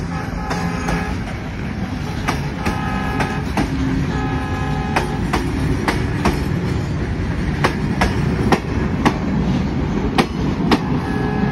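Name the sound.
freight train passing at Darshana-Gede border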